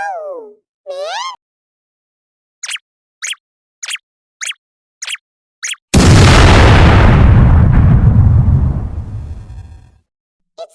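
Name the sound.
bomb explosion in an animation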